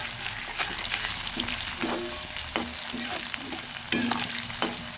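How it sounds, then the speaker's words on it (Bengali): Whole spices, including cloves, frying in a pot and being stirred, a continuous close sizzle with regular scraping strokes of a spoon against the pan. "সব কিছু একসঙ্গে ভেজে নেব সুন্দরভাবে মশলাগুলো মেরে দিচ্ছি"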